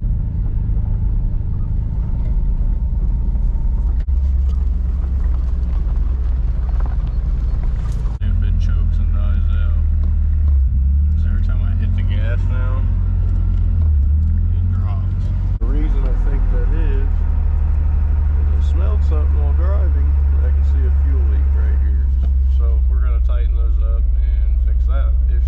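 A modified drift car's engine revs and rumbles in deep, heavy surges, rising and dropping several times up close, with someone talking over it.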